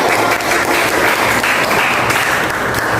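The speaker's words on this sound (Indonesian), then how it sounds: "Beri tepuk tangan." Classroom applause from a group of students, a steady dense patter of many hands clapping at once, close and loud for about three seconds with no talk over it.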